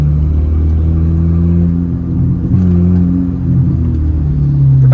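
A car's exhaust, fitted with a modified catalytic converter, rumbles loudly and close in steady low tones, swelling and easing through mild revs with no talking.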